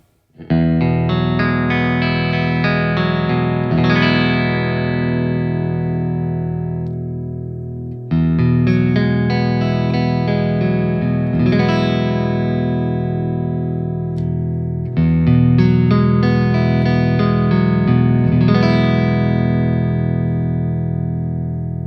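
A Stratocaster electric guitar fitted with a vintage-stagger Apache single-coil pickup set plays three sustained, loud, chiming chord passages, each about seven seconds long, run through all three pickup positions with no talking.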